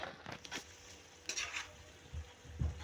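Eggplant and tomato curry with ginger garlic paste sizzling in a pan, a spoon stirring and scraping with soft clinks and a couple of duller knocks against the pot, fairly quiet.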